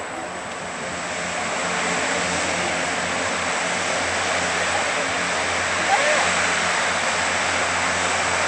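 Propeller engines of Jetstream aircraft run up before the takeoff roll at a naval air station airshow, a steady loud drone with a high whine that swells slightly partway through.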